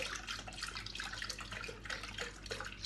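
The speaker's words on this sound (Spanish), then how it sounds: "le voy a echar 500 de leche" Milk is poured into a Thermomix for a grandmother's cake, a steady splashing liquid stream heard close and alone for a few seconds.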